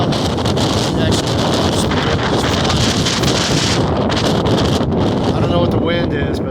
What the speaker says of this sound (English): Texas weather, Texas dust storm.